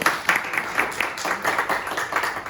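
An audience applauds at a gathering with a scattered, moderately quiet patter of clapping hands that stays fairly even for a couple of seconds.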